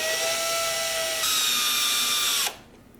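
Power drill boring holes in rocket airframe sections, a steady high whine that shifts pitch midway and then cuts off, close and loud with no talking.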